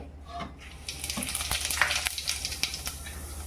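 Oil poured into a heated pot for palak paneer begins to crackle and sizzle, a few sharp pops and clinks building into a steady close frying hiss.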